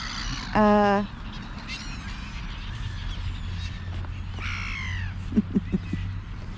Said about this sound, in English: have more crows in the park